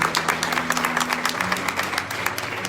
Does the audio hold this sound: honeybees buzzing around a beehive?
no